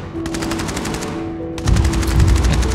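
Gunfire in the mobile shooter Sniper 3D Assassin: a rapid regular train of shots runs throughout over a steady game hum, growing louder and heavier partway through.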